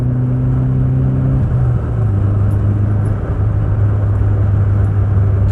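A 1997 Subaru Impreza HX-20S, naturally aspirated, revs under way with a steady droning exhaust growl that shifts pitch as the engine climbs and settles, loud and close from inside the car.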